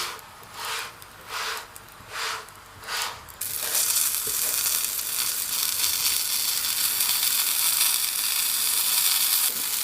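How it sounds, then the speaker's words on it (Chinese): A Mongolian meat pie pan-fries in a pan. Soft swishing strokes come at a steady rhythm, then a continuous close sizzle takes over and holds to the end. "烙至另一边变色，再次翻面"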